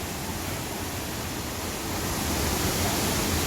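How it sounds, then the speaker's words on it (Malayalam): Water runs down over large boulders at Chinganchira in forested hill country, a continuous rushing hiss that stays steady and close and swells slightly toward the end, with no voices. "ഇവിടെയൊക്കെ വെള്ളം വന്നുകൊണ്ടിരിക്കുന്ന സ്ഥലം താഴത്തേക്ക്"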